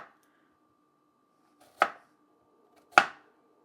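A knife cuts radishes into thin slices on a board, two crisp separate chops about a second apart over a quiet background hum.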